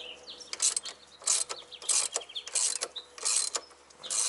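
Quick bursts of ratchet clicking while a motor mount bolt is loosened on an MK4 VW Golf/Jetta GTI, close by in a garage, coming in repeated short runs with brief pauses between them.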